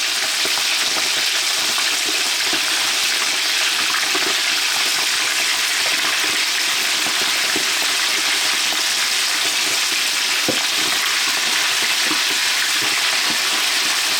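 Chicken wings fry in hot oil in a cast iron skillet, a dense, loud, continuous sizzle and bubbling boil that roars steadily and close without pause.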